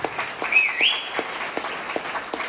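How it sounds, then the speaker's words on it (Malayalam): An audience at an achievers' celebration gathering in Calicut breaks into brief applause, a short burst of scattered claps with a couple of whistle-like sweeps over it. "ഒരു ക്ലാപ്പ് അടിച്ചു."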